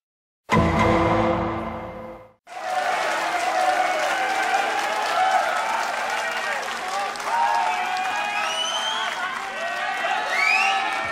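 Concert crowd at a live rock performance breaking into loud applause and cheering after a brief opening tone, dense clapping sustained and near, with shouts rising throughout.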